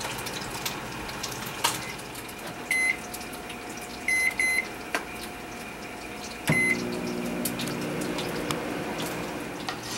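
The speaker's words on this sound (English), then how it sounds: "It is going to go into the microwave for 1 minute." A steady hum of a running microwave oven with a few short electronic beeps, the drone shifting slightly partway through.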